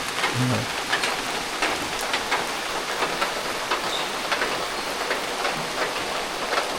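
Monsoon rain falls steadily on a Konkan village, a dense, even patter on surfaces with scattered heavier drops, fairly loud and continuous with no voices.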